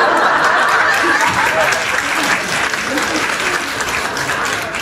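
A live comedy-show audience claps loudly, a dense burst of applause that fades gradually, with faint chuckles and talk mixed in.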